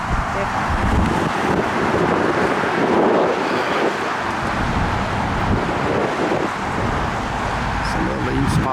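Gusty wind buffets the microphone on a cold mountain top near Max Patch, a loud, continuous rumbling roar that rises and falls slightly, with no clear talk over it.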